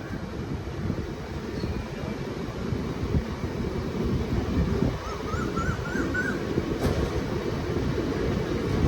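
A Kollam–Thiruvananthapuram passenger train pulls out of Mayyanad station, its steady low rumble and rolling wheel noise loud and continuous from inside the carriage, with faint squealing tones rising briefly near the middle.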